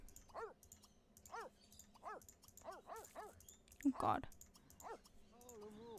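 A Sim in The Sims 3 goes "woof woof" in a voice imitating a dog, several short yelps spread through the moment, with clicks and a brief exclaiming voice in between.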